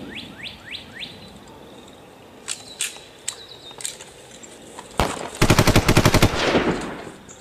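Mafia-themed parody scene: rapid machine gun bursts rattle loudly after a few scattered single gunshots and whistle-like chirps, ending in a sustained dense volley.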